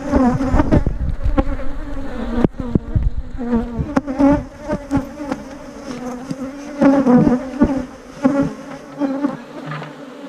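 Agitated, queenless honey bees buzz loudly and steadily inside an open nuc hive, a dense swarm drone with sharp close passes and shifting swells throughout.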